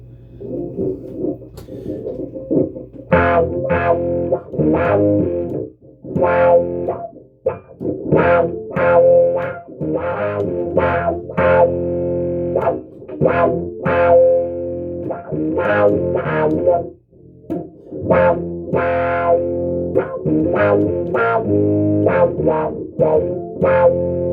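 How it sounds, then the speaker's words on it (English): A distorted fretless bass guitar plays a rhythmic riff through a sweeping wah-wah pedal, the tone swelling and filtering steadily with no voices. "Let's put the wah-wah pedal on with this little sound here and see what happens."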